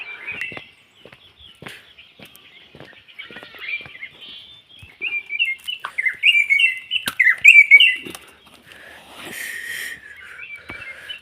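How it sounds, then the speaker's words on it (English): Early-morning birds on an East African farm chirp and tweet in quick, shrill bursts from close by. The calls grow busier and louder toward the middle. "You can hear the birds. The birds are making noise."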